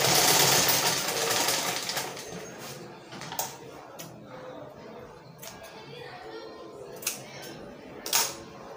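A sewing machine top stitches Ankara print fabric for a child's polo and joggers. It makes a loud, close burst of running at the start, then goes quiet apart from scattered clicks and handling taps.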